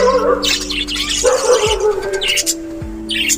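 Budgerigars chirp and twitter busily on a bedroom balcony over a steady low hum, with a dog barking faintly at moments.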